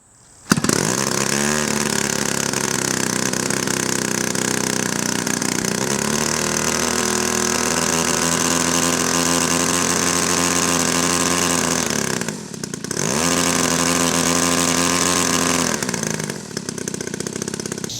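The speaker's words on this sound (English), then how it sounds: "just get it running and then go ahead and kick it up to full throttle and listen to it" A DLE gas engine on a model aircraft screams at full throttle, loud and close, with a brief dip in revs midway before climbing back to a sustained high-pitched buzz.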